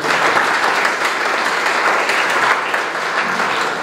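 Sustained, dense applause fills an awards ceremony at the national final round of the 53rd Biology Olympiad, steady and loud from start to finish, with no talk over it.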